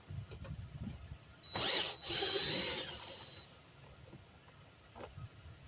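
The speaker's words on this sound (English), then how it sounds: "get your 8mm and take this bolt out right here" A power tool spins briefly, twice in quick succession, while removing an 8mm bolt from the driver-side door panel of a 2004-2008 Ford F-150. Short, close whirring bursts stand out against quiet workshop background.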